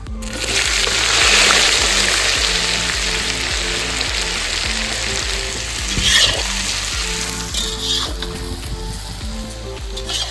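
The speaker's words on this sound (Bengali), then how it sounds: "এবার দিয়ে নিচ্ছি পরিমাণ মতো জিরে, দিয়ে নিচ্ছি কেটে রাখা পেঁয়াজগুলো" Cumin seeds and chopped onions fry in hot oil, a loud, continuous sizzle with rhythmic stirring scrapes and light splatter, close up and without talk.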